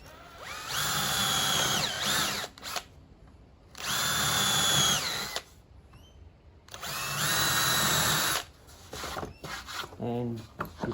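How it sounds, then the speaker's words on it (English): A power drill bores holes into wood for a tradesman's toolbox, with scrap underneath, in three loud whirring bursts of about two seconds each, separated by quiet pauses, close up with brief rattling at the end. "When pre-drilling, make sure you've got a bit of scrap underneath so it doesn't split too much."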